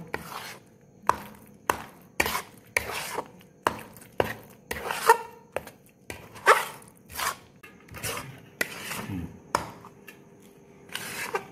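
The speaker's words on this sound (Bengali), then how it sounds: "এবার ভালো করে আমি মিশিয়ে নেব" Date palm jaggery being mixed into a Gobindobhog rice cream: a rhythmic series of sharp, close knocks and clacks, roughly one or two per second, with quiet gaps between them and no talking.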